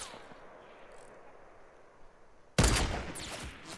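Sniper gunfire in the Fortnite video game: a single loud, sharp shot bursts in after a stretch of quiet game ambience, followed by a decaying tail and further game noise.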